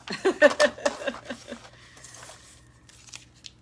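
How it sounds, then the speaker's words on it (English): Scissors snipping paper for a pirate-themed junk journal, a quick run of close, crisp cuts through the first second and a half, then quieter handling rustle with a faint hum underneath. "I'm just cutting."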